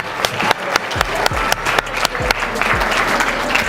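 A graduation audience applauds loudly and steadily, with dense clapping and a few sharp close claps and thumps.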